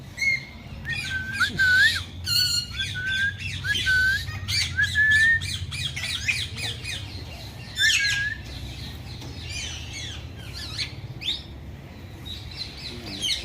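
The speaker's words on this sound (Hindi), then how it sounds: "इस पिंजरे में है छोटे छोटे तोते।" Small parrots in a cage at a bird park chirp and squawk continuously, a busy overlapping chatter of shrill calls and rising whistles close by, with faint background murmur.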